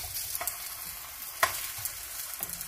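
Plantain slices frying in a pan of hot oil for red mole with chicken, giving a steady soft sizzle with occasional light pops and stirring clinks, close and fairly quiet.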